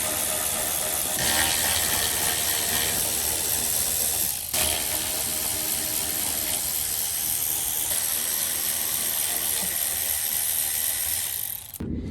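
Bolts are removed from the front bumper of a sixth-generation Chevrolet Camaro SS, with a steady loud whirring and rattling from a power ratchet and two brief pauses between bolts, and no voices.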